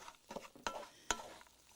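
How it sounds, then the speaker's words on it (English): A spoon scrapes and stirs couscous through vegetables in a pan, with a couple of sharper clinks against the metal, close up and quiet. "by stirring it through so that you've got it nicely blended with the vegetables"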